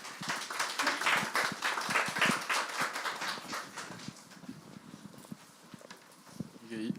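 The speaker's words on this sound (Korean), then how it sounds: "함께 박수로 환영하겠습니다." A church congregation applauds to welcome a visiting missionary at a Sunday service: dense, lively clapping for about four seconds that thins into scattered claps, with some voices mixed in.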